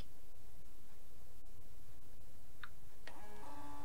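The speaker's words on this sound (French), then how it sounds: "Donc, je vais faire imprimer." A printer starting a print job: a few faint clicks in a quiet room, then its motor whirs into motion near the end, close and fairly soft with no one talking.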